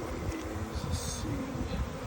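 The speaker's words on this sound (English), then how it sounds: "Yeah, see, most of these bees are on the outside." A honey bee swarm being moved into a bee box gives a steady, dense buzzing that holds at an even level throughout the short stretch, close and continuous with no voices.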